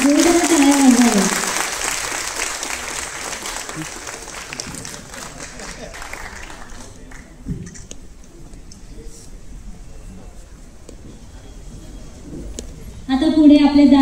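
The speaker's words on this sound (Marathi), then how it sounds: "सत्कार होताना कृपया टाळ्यांमध्ये कंजूसी करू नका, जोरदार टाळ्या वाजवाव्या" Applause at a felicitation ceremony starts fuller, then thins to scattered, fading claps and clicks, with a person speaking at the beginning and again at the end.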